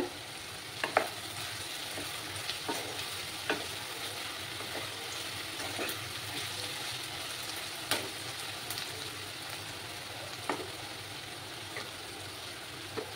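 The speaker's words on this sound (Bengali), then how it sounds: "এবার এটাকে পেঁয়াজটাকে আমি ভালো করে লাল লাল করে ভেজে নেব।" Onions with a little salt fry in a pan until they turn red-brown. There is a faint, steady sizzle with occasional sharp clicks from stirring, and no talk.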